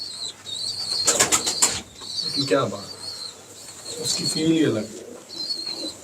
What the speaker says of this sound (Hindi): इनमें आपस में ये प्योर कसूरी कबूतर है